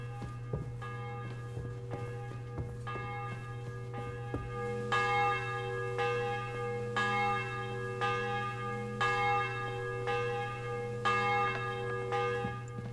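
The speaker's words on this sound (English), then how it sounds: "The bell's ringing for Hans the 5th time." A church bell tolls in the medieval video game Kingdom Come Deliverance 2, with repeated resonant strikes ringing out at a steady pace over a constant low ambient hum.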